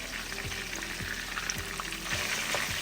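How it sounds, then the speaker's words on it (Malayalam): Chicken pieces frying in a pan over high heat, a soft, steady crackling sizzle with faint periodic scrapes, fairly quiet and close, no voices. "ചിക്കൻ ഒന്ന് പകുതി വേവാകുന്നിടം വരെ നമുക്ക് തീ കൂട്ടി വെച്ച് വേവിക്കാം"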